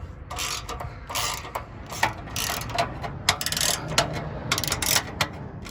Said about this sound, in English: we're going to loosen all of these nuts with a 13mm socket